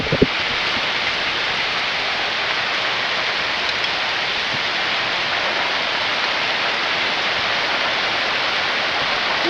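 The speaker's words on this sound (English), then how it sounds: "It's raining! Listen to that." Steady rain falling on a garden in Bulgaria after a dry spell, a continuous, even hiss of drops on leaves and surfaces, close and fairly loud with no voices.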